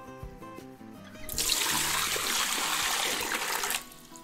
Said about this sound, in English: Let's go ahead and put water in it.